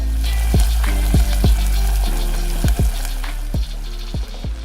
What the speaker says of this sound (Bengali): প্যানটা গরম হয়ে গেছে আমি চিপসটা দিয়ে দিব